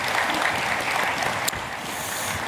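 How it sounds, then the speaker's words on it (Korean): Church congregation applauding during a Sunday service, a steady dense wash of many hands clapping throughout, loud and close, with one sharp louder clap near the middle. "우리 다시 한번 큰 박수로"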